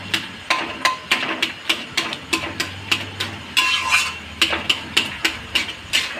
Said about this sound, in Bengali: আলুটাকে ভালো করে খুন্তি দিয়ে ম্যাশ করে নেবেন